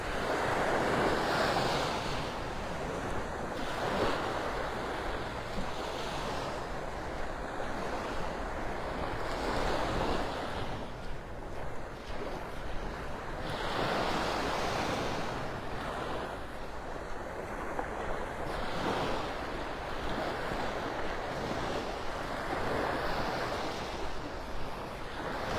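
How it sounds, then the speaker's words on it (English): Ocean surf rolls onto Vanderbilt Beach at Delnor-Wiggins in North Naples, Florida, on a morning beach walk: a continuous, full wash of breaking waves that swells and recedes, with steady wind buffeting the microphone and no voices. "The song of the sea."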